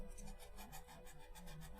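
Sandpaper rasps quickly and steadily across sculpted tentacles for an Ultros sculpture, the close, dry strokes repeating in an even rhythm with no talking.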